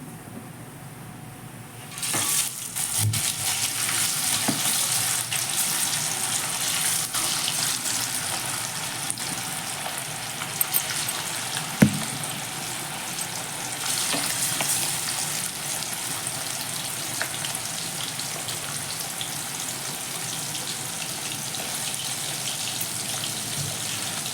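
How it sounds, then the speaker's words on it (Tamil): Small anchovy fish sizzle as they fry in hot oil, a dense, steady crackling hiss that starts abruptly and runs on close with a few sharper pops. "அடுத்தது பொரிச்சிக்கலாம்"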